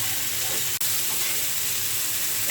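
Bean seeds fry in mustard oil with onion and garlic, a constant soft hissing sizzle broken once by a brief click, with no talking.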